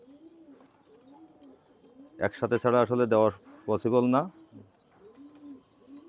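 Teddy pigeons of Royal and Oman breeds coo softly and rhythmically in the background, with someone talking loudly in short bursts over them.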